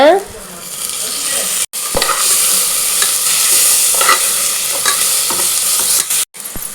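Onions sautéing with ginger garlic paste in a pan for mushroom biryani, a steady loud sizzle broken by the scrape and clatter of a spoon stirring, with a couple of brief gaps.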